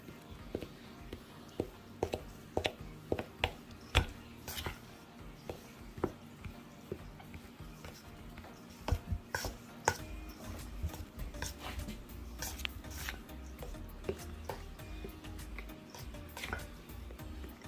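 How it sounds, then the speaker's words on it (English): Margarine is cut into flour for vegan Jamaican vegetable patty dough, producing a run of soft irregular taps and scrapes from a utensil in a bowl, close but quiet, with a faint low rumble underneath. "continue to mix it in and cut my margarine into the flour"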